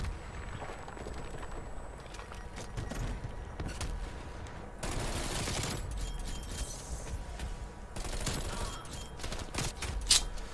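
Gunfire in the video game Call of Duty Cold War, bursts of rapid shots and a few louder crackling volleys over a busy, continuous game backdrop, moderately loud throughout.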